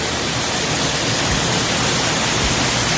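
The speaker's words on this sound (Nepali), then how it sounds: "पानी पर्नेको सिजनले गर्दाखेरि झर्ना ठुलो छ नि त नि" A monsoon-swollen waterfall at Chillipam near Rupa, Arunachal, thunders in a steady, dense roar of rushing water that fills the whole clip without a break.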